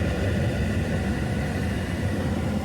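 A car's climate blower fan runs with a steady broadband whoosh, constant and close, with no speech over it.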